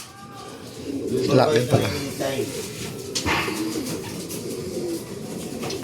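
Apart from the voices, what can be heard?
racing pigeon cooing on arrival at loft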